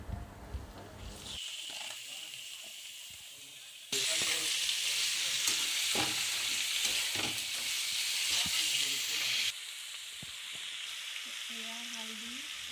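Chicken pieces hit a pan of hot ginger, garlic and chilli paste and sizzle loudly, the hiss jumping up sharply, then settling back as stirring clatters.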